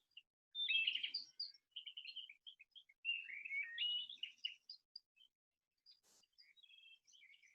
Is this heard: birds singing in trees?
yes